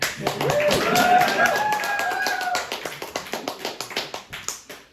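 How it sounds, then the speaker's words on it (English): Audience whooping and clapping at a lightning talk, whistled and shouted whoops over dense applause at first, then thinning into scattered individual claps that fade out. "We got to whoop and clap"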